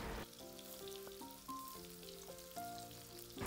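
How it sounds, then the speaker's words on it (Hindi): Kebabs shallow-frying in oil, a soft, steady sizzle under a quiet melodic tune; no one speaks. "इसको हम इसी तरह से अलट पलट करते हुए गोल्डन ब्राउन होने तक फ्राई करेंगे।"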